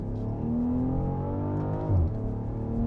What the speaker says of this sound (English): Ga-vroom on the upshift, that sounds good.